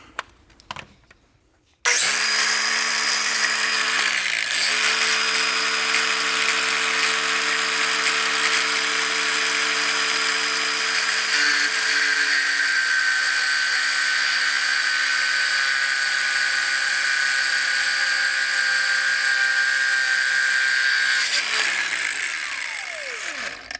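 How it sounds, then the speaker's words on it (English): An angle grinder with a cutoff wheel, used like a flap disc, grinds during a Mugen MS-Z seat install in an EM1 Civic Si. A loud, steady, high-pitched whine runs nonstop for about twenty seconds after a brief start. "Are you using a cutoff wheel as a flap disc?"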